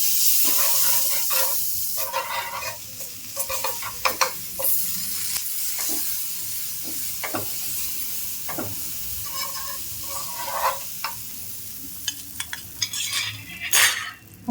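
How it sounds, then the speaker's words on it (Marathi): Round bread slices toasting in butter on a hot griddle pan, a continuous close sizzle broken by repeated sharp clicks and scrapes of a spatula, with no talking. "आता ह्याला मी तवावर बटर लावून गरम करते"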